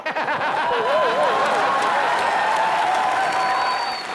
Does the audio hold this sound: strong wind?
no